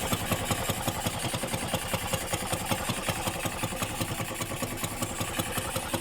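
A loud motorcycle engine idles nearby with a harsh, open, muffler-less tone, a fast, steady pulsing chug that stays constant throughout without speech.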